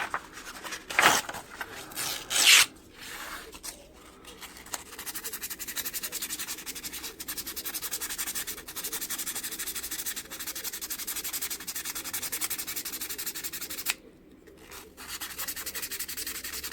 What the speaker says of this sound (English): then after that we'll have to sand the insides piece by piece